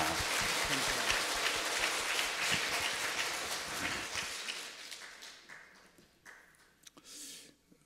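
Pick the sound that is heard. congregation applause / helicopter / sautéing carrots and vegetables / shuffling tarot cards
congregation applause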